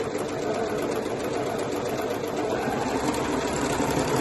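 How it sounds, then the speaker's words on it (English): A sewing machine runs continuously while stitching the neckline seam of an Agnes tee, a steady close rapid mechanical whir and chatter with no pauses and no talking. "Now coming right back round to where I started."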